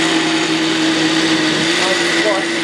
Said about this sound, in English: We're going to go down here, turn it on, and we're going to puree.